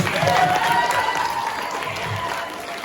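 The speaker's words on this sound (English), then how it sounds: "Let's give another hand." A talent show audience in a large crowd bursts into sustained applause, a dense wash of clapping hands that fades gradually over a few seconds.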